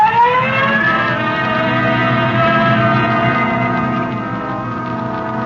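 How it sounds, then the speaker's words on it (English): A police car siren with red light wails steadily in a vintage radio drama, its rising and falling tone holding loud and close before easing slightly near the end, with no talking. "Code 3, red light and siren."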